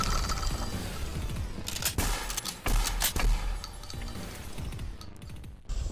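Rapid gunfire rattles against PlayStation, Xbox and PC hardware on a shooting range, a dense burst of sharp cracks with loud reports clustered near the middle and metallic impacts between, no talking.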